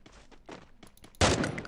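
Gunfire in the Free Fire battle royale game: a few soft, muffled shots first, then a loud, sharp burst of close rapid fire toward the end.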